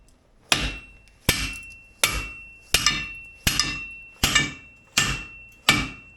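Eight loud, evenly spaced hammer blows strike a part on a 2003 GMC Envoy, each a sharp metallic crack with a short ringing decay, close by and with no talking.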